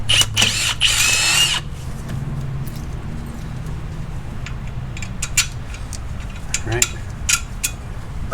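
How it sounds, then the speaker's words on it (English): A power drill bores a hole in a steel bracket for a Daystar 1.5 inch leveling kit on a 2020 Jeep Gladiator. A sharp, high whine bursts out first, followed by scattered metallic clinks and handling noises. "So I'm going to drill that hole now"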